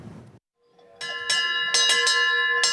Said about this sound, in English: the triumphant ringing of a brass bell, signaling the end of treatment